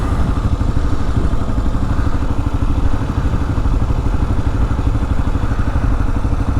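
A 2022 Kawasaki KLR 650 dual sport motorcycle engine pulling while riding on city streets: a loud, close, continuous thumping single-cylinder drone with rapid even pulses and wind rush throughout.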